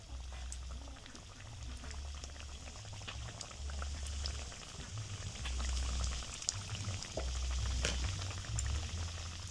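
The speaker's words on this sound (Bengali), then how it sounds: "এইবার বিস্কুটগুলো ভেজে নেব" Biscuits made from peanuts, semolina and flour fry in hot oil with a soft, continuous bubbling and crackle, faint and close, with scattered small pops and occasional low thumps.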